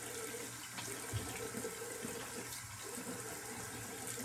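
Cold water runs from a tap into a bathroom sink, a steady close hiss and splash continuing throughout with no talking.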